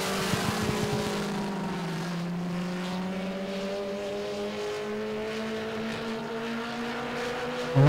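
Ford Mustang race car engine at a drag strip, a steady distant drone with pitch slowly rising and shifting, continuous and even throughout.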